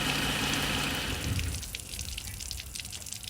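Water runs out of a car radiator drain in a steady gush that splashes and drips, then thins into lighter, scattered trickling.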